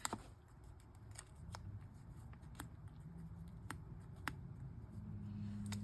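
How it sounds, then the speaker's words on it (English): Paper being cut with scissors to make a small tab, heard as a series of quiet, crisp snips at irregular intervals over a faint steady background hum. "So I'm just going to cut this down to make a little tab for my pole and fold it over here."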